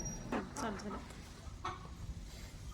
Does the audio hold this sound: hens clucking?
yes